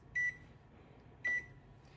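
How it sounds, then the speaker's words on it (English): Two short, clear electronic beeps from an oven timer being set while baking monkey bread, evenly spaced about a second apart over a faint background hum. "So I'm gonna set a timer for 40 minutes."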